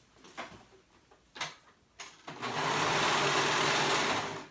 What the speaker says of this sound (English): now we're gonna sew those sides together